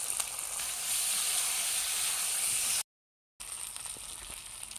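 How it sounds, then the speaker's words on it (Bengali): Boiled potatoes and pointed gourd fry in hot oil with cumin, bay leaf, dried chilli, salt and turmeric, giving a steady, close sizzle that drops out briefly and then resumes. "আলু পটল দুটি ভাজা হয়ে গেছে"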